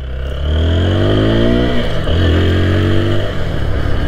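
A 2022 TVS Apache RTR 160 4V motorcycle engine revs up, drops briefly, then revs again, loud and close, with rising and falling pitch.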